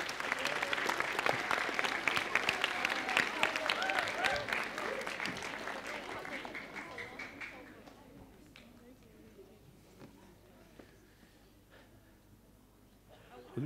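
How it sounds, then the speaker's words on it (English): An audience at a children's Christmas demonstration lecture breaks into loud, sustained clapping that gradually thins and fades away, with faint talk beneath. "I think that requires a round of applause."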